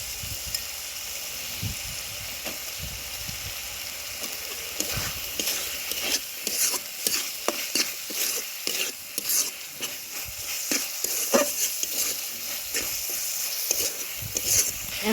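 Dried fish curry with eggplant cooks in a pan as the fish is stirred into cooked spice paste, giving a steady sizzle broken by repeated scraping stir strokes, close and clear with no talking.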